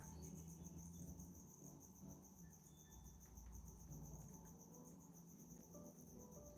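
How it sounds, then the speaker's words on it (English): Crickets chirp in a dense, steady pulsing chorus, continuous throughout, with faint scattered background sounds. "You can probably hear the crickets because they are quite loud."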